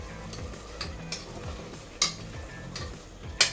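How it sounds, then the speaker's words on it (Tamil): Tomatoes sautéing in a pan for crab biryani, giving a soft steady sizzle with a few sharp clicks of a spoon stirring against the pan, close and fairly quiet, with no voices. "தக்காளியும் கொஞ்சம் வதங்கட்டும்."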